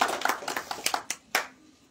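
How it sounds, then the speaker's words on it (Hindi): A crowd at a Bahujan Samaj Party gathering claps to welcome a speaker, a short burst of loud, uneven hand claps that trails off into a few scattered final claps within two seconds. "श्री हेमराज जी, इनका जोरदार तालियों के साथ स्वागत करें।"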